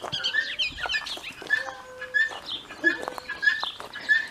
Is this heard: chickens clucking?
yes